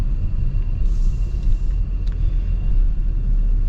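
2026 Range Rover Velar on the road, heard as a steady low cabin rumble of engine and tyres with a few faint higher ticks, continuous and close throughout.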